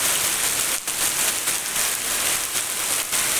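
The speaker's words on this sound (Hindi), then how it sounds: "यहाँ पर आज जबरदस्त बारिश," Dense, steady hiss of heavy rain pouring down, continuous and close, with no voices.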